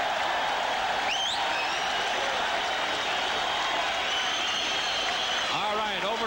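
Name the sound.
boxing crowd applauding Zaragoza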